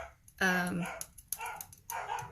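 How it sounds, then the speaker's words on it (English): Dogs bark in the background, a few sharp yips and barks mixed with a person talking. "I am so sorry about my dogs barking in the background."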